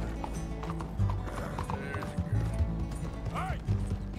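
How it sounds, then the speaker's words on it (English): Hooves clip-clop rhythmically as a horse gallops in Red Dead Redemption 2, close and steady, with a couple of short whinnies and game sounds mixed in. "Ooh, this horse is fast though."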